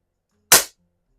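A single sharp shot from a Crosman Vapor Max air rifle, a short crisp crack in otherwise near silence.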